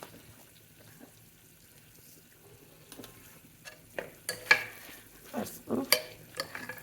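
A moong dal tempering for a cucumber curry fries in a pan. After a quiet, faint sizzle, a spoon scrapes and stirs in uneven bursts that grow louder and busier toward the end.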